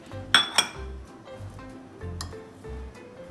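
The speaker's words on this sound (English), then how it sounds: "Give it a quick mix" A spoon mixing dried rose petals into chocolate in a bowl, bright metallic clinks against the bowl followed by soft scraping strokes in an uneven rhythm, close and fairly quiet, with no talk.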